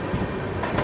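The Vikrama Simhapuri Amaravati Superfast Express runs steadily near Tenali, a continuous rumbling rail roar with faint rhythmic wheel clatter, heard close from on board and without any talk.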